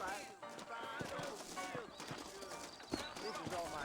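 Saddled horses clop on hooves in a New Orleans scene of the video game Red Dead Redemption, irregular hoofbeats heard under character dialogue with scattered clatter.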